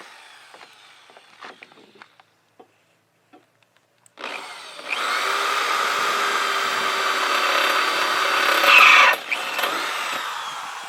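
Power drill boring straight down into a wood board for a skateboard grind box, a steady close whine lasting several seconds after a few light knocks and handling taps, rising slightly before cutting off.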